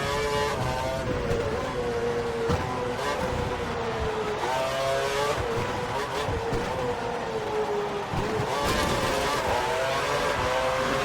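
Race car engine in a racing video game, set at the 2012 German Grand Prix, droning steadily at loud, fluctuating pitch as the car slows and drives into the pit lane, with no talk over it.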